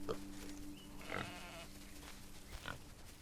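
A faint sheep bleat from the video game SolarPunk sounds once or twice against a low, steady background hum.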